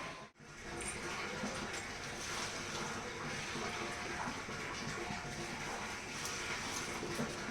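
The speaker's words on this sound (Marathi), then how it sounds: "इथं टाकीत पाणी पडतं आहे बघू शकताय मोटर चालू केली" Water from a motor pump pours steadily into a household tank, a continuous rushing splash that stays loud and even throughout, with no talking.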